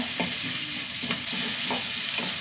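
Onion and green chilies sizzling in hot oil with a constant crackling hiss, punctuated by a few soft scraping strokes as they are stirred.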